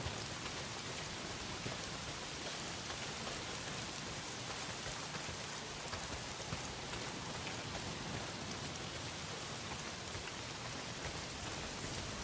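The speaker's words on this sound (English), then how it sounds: "A lot of it's pissing down rain." Heavy rain pours in the video game Days Gone, a dense, even hiss of drops on surfaces that holds steady for the whole stretch without talk.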